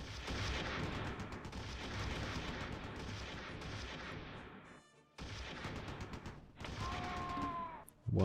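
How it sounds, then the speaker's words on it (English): Sustained heavy machine gun fire from a Close Combat 3 battle rattles on loudly for about five seconds, drops out briefly, then returns in dense bursts toward the end. "Let's also open up with our heavy machine guns again."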